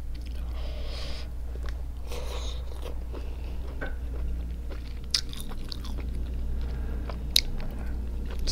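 Close, wet chewing and biting of giant B.C. crab, with soft crunches and scattered sharp clicks of shell over a steady low hum, no talking.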